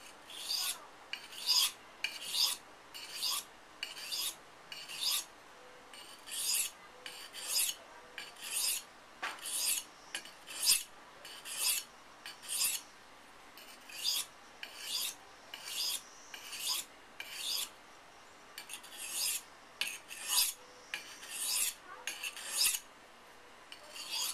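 A knife blade drawn across a sharpening stone, flipped back and forth to thin the burr: crisp, close rasping strokes in a steady rhythm, often in quick pairs, heard alone over quiet background.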